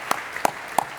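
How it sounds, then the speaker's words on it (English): A few sparse, separate hand claps ring out in a conference hall as the organizers are acknowledged, three sharp hits spaced about a third of a second apart. "So an applause for them."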